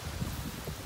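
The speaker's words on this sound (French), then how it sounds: "Les rafales de vent à plus de 100 à l'heure." Strong wind gusts over 100 km/h during a violent multicellular thunderstorm in Clermont-Ferrand roar as a dense, steady rush of wind noise on the microphone, with rustling mixed in.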